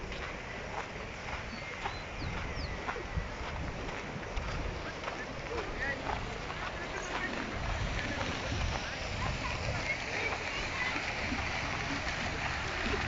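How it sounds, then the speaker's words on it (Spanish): A swollen river in La Higuera, Córdoba rushes past outdoors, a continuous broad wash of flowing water with soft splashes and some wind, steady and fairly loud for the whole stretch. "Ahí está el río crecido."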